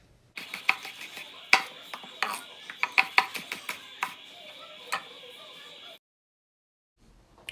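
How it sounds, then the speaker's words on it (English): A knife cuts a red bell pepper into thin strips on a board, making a quick series of crisp, close taps of uneven rhythm, then stopping into near silence. "Start with slicing around the pepper and then cut into thin,"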